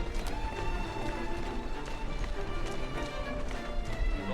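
Rapid hoofbeats pound steadily throughout, a horse galloping with a constant rumble beneath, in the video game Assassin's Creed Syndicate.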